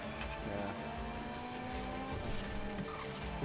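Kuruma sports car driving fast in GTA 5 Online, its engine roaring steadily with tires squealing and skidding throughout, loud and continuous with no talk.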